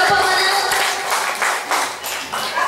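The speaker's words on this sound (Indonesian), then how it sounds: "Kita berikan tepuk tangan yang meriah dulu untuk ketiga pemenang" Clapping for three winners at a fourth anniversary celebration, loud and close, with bursts of applause that swell and dip over a busy background of voices.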